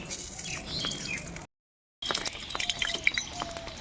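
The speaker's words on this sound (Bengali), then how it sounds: "আর উপর থেকে বৃষ্টি পড়ছে, ওই জন্য চটপট আওয়াজ হচ্ছে।" Rain falls from above during cooking while mustard oil heats in a kadai, making irregular light drips and taps that patter on and off, broken by a short silent gap.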